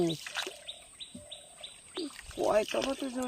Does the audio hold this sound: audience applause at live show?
no